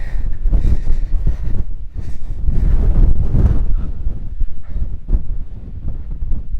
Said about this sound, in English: It can be really blustery up here.